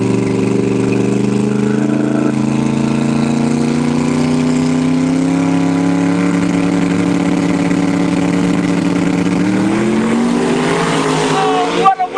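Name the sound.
drag racing car launching down the dragway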